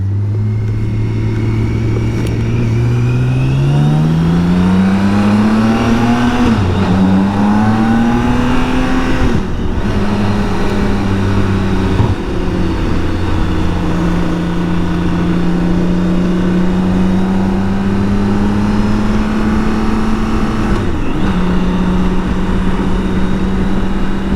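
A BMW K1600 GTL motorcycle's engine pulls steadily up through the gears, its whine climbing, dipping briefly at each smooth change and climbing again, loud and close over wind rush, with no talking.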